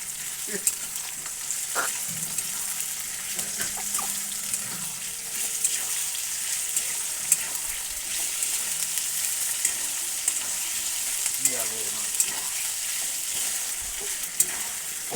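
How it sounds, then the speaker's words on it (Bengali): Cumin and ginger paste fries in a pan for a goat meat curry, a constant bright hissing sizzle that runs throughout, with occasional stirring clicks and scrapes. "এবার দিয়ে দিচ্ছি জিরে বাটাটা, দিয়ে দিব আদা বাটা, আবার নেড়ে দিচ্ছি"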